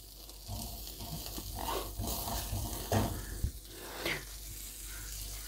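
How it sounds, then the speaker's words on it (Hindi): A teaspoon of butter melts in a kadhai with a quiet, uneven sizzle, broken by a few soft knocks and stirring sounds of a utensil against the pan. "ये जी गया 1 टीस्पून बटर कढ़ाई में"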